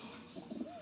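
A racing pigeon arriving at the loft during basal training in Angat, Bulacan, giving a brief soft coo, faint and close against quiet background noise.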